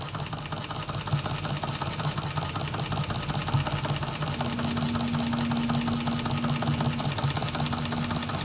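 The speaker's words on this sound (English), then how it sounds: "You can see how beautifully the machine is running." Restored Cornely ACH postbed chainstitch embroidery machine stitching on felt, a steady continuous mechanical hum and rapid whirring with faint rhythmic clatter, close and even throughout, a low tonal drone rising partway.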